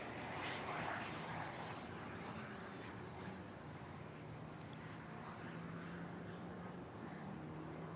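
F-16 fighter jet with about 29,000 pounds of thrust at a 2024 Pacific Air Forces air show demo, a steady broad roar of engine noise heard from a distance, continuous throughout with no talk.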